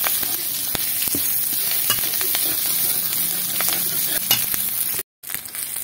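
Green chilies frying and being stirred in a pan for a Bengali vuchro kotha greens recipe, a steady close sizzle with scraping clicks of the spatula, briefly cut off near the end before resuming.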